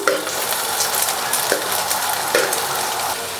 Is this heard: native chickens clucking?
no